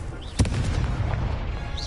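The Incendio fire spell is cast in the video game Hogwarts Legacy, a single sharp burst followed by a dense, roaring rush of flame over continuous game ambience.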